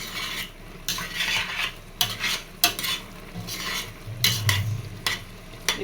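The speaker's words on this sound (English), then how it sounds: "Then I will stir it." A spoon stirs beans and plantain cooked with crayfish in a pot, with repeated scraping strokes and clinks against the pot over a soft simmering sizzle, close and with no talking.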